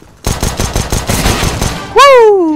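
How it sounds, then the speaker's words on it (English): Rapid automatic gunfire in Counter-Strike: Global Offensive rattles in a loud burst of about eight shots, followed by a rising whistling tone. "I hear gunfire."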